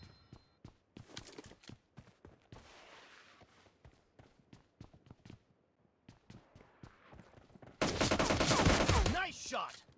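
Rapid gunfire bursts from PUBG Mobile Lite in a team deathmatch, with a long string of sharp shots and short volleys, ending in a loud, dense stretch of sustained firing and explosion-like noise.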